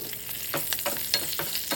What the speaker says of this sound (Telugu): తాలింపు చేసుకోవాలి